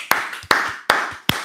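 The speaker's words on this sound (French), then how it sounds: "Applaudissons pour Jésus-Christ." A church congregation at a Sunday service claps in unison, four loud, sharp, evenly spaced claps about every four tenths of a second, each with a short ringing tail in the hall.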